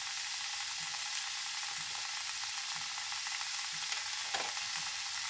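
Spices stirred into food frying in a pan, with salt and turmeric going in, give a soft, steady sizzle throughout, punctuated by faint scraping strokes roughly every second and one sharper clink near the end.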